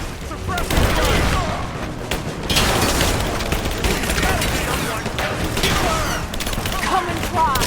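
Video game gunfire in Rise of the Tomb Raider, dense bursts of rapid shots and booming impacts packed together for several seconds, loud and sustained with brief gaps, while shouting voices break in.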